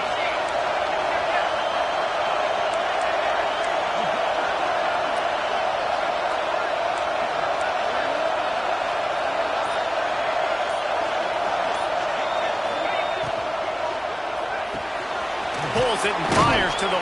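Stadium crowd in a college football video game with Texas A&M, a continuous loud roar that swells and holds as the noise builds, steady without breaks over the full stretch.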